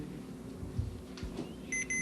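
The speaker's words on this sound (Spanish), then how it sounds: "si se oye un tono que nos indica que hay continuidad" A continuity tester's buzzer, checked before a coil is tested, gives two short, faint high-pitched beeps in quick succession after some handling clicks and thumps.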